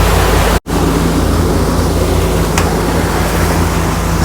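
Strong wind blowing on a sailboat at sea in the British Virgin Islands, a loud continuous rushing roar buffeting the microphone, broken by one brief dropout, with no voices.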